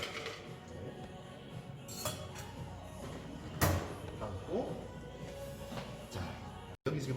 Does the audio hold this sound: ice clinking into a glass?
yes